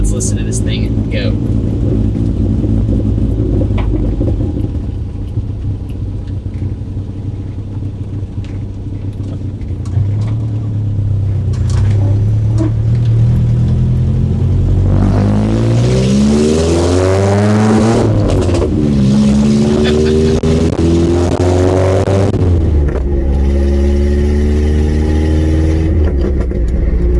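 An old school car engine idles, then revs up hard in repeated rising bursts before settling back to a rough idle, loud and close throughout.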